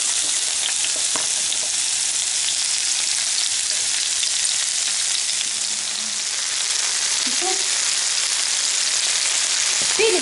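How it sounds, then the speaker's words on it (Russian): Bell pepper frying in a pan gives a continuous dense sizzle that holds level and close for the whole stretch, with only faint scattered crackles and no voices. "Перец тоже обжариваю до мягкости."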